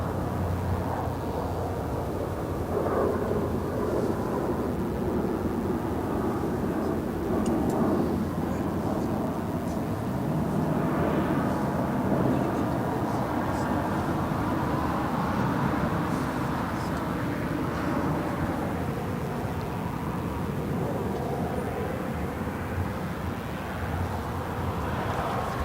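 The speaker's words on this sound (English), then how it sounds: "Next departure is Alaska SkyWest flight 3322 heading to Las Vegas in an E175" An Alaska SkyWest Embraer E175 jet departs Los Angeles International Airport, a steady, fairly distant roar of engine noise that swells and fades gently over about half a minute, with no talking.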